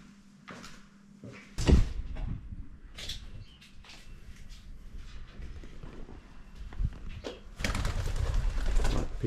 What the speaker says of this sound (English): Like pigeons are living here